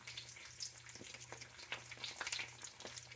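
Sliced potatoes frying in oil in a pan for tortilla española, giving a steady close sizzle with soft scraping from stirring and a low hum underneath.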